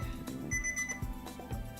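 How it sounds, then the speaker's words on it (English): A quiet electronic timer alarm beeps twice, with faint thumps and low background noise around it. "time's up. Beep, beep, beep."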